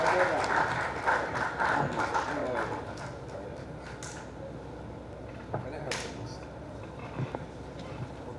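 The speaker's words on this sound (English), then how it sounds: "A round of applause for all of them." An audience at a panel event applauds the panel members. A burst of clapping is strongest at the start and fades away over a few seconds, with some voices mixed in.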